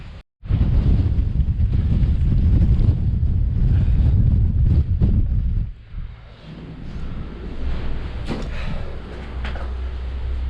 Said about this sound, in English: It's always windy on the moors.